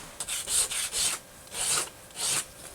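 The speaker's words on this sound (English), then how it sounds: "One of the nice things about doing it by hand with just sandpaper" Sandpaper rubbed by hand along a small wooden popsicle-stick minnow lure, five distinct rasping strokes in a slow rhythm, close and clear with short pauses between, no talking.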